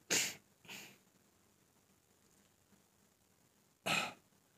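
A person coughs three times in short, sharp bursts close by. Two coughs come together at the start and a third follows after a quiet pause.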